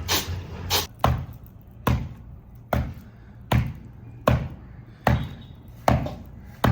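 Solid lumps of jaggery being pounded in a home kitchen, about nine heavy, evenly spaced thuds repeating roughly every second, each landing loud and close with a short ringing tail.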